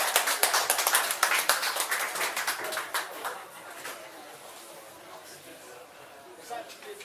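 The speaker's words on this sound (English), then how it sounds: "a big round of applause please" Audience applause for a performer at an open-mic music night, a dense, loud burst of clapping that thins and fades over the last few seconds.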